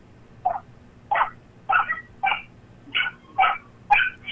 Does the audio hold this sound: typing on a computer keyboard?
no